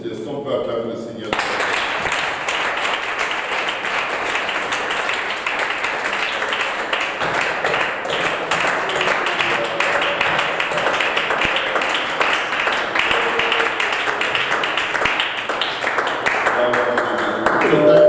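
A church congregation applauds and cheers to praise the Lord, a dense, steady wash of clapping and voices that swells after a brief quieter opening and carries on loudly throughout.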